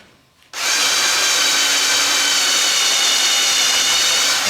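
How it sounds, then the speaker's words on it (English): A quiet moment, then a power drill starts abruptly and runs steadily at high speed, loud and close, drilling holes in wood for a pipe organ restoration. "we'll turn it over and drill them from the other side"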